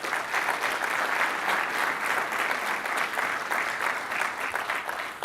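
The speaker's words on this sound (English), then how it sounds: "So let's give him a round of applause." An audience at a flight simulation show gives a steady, full round of applause that runs the whole time, dense and even, with no voices standing out.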